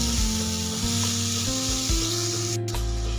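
Amla, Indian gooseberries, fry in oil on a hot pan, giving a steady, close, dense sizzle with soft stirring scrapes throughout.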